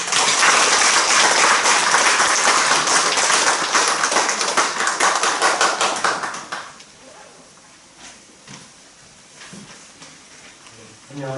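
Audience applause welcoming a speaker at a Jirisan victims' memorial and reconciliation gathering, loud dense clapping for about six seconds that then drops off abruptly, leaving a quiet room with a few scattered claps.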